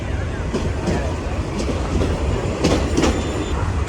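A passenger train running between Bogura and Kahalu rumbles along the rails with a steady low roar and faint rhythmic wheel clatter, heard from inside a carriage.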